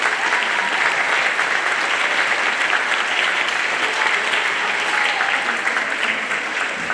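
A school band concert audience gives a loud, sustained round of applause for the school's supporters, a dense wall of clapping that holds steady from start to finish with no speech over it.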